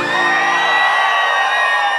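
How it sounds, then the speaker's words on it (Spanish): Live crowd at a norteño concert in Boston yelling, whooping and cheering loudly and continuously, a dense roar of voices filling the space. "El grito de los solteros"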